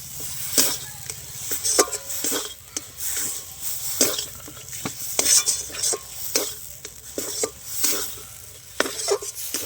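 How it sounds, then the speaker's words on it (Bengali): Onions are stirred in a hot pan as water cooks off, bringing repeated scraping and clacking of a spatula against the pan over a steady soft sizzle, close and with no talk. "দিয়ে আরও কিছুক্ষণ খুব ভালো করে নেড়ে চেড়ে নেবো যাতে জলটা একদম কড়ার মধ্যে শুকিয়ে যায়"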